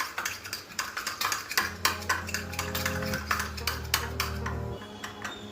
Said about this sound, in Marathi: या तुपाला छान असं फेटून घ्यायचं आहे